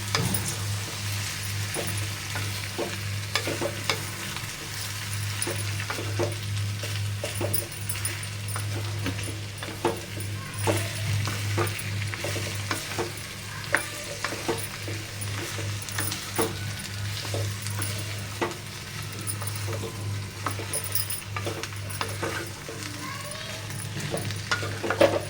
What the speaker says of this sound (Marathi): बटाटे घालून घेऊ आणि छान असं परतूया.